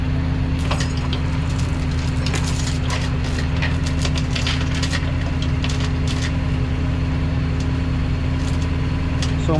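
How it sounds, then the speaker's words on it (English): Safety chains are ratcheted tight on a tow truck, giving repeated clicking ratchet and metal chain sounds over a steady mechanical engine drone close by. "I'm just putting the safety chains tight now"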